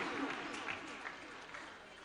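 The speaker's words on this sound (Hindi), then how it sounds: "एक बार जोरदार ताली बजा के" An audience at a Jain religious discourse breaks into strong, continuous clapping, a dense, fairly soft patter of many hands that holds steady throughout.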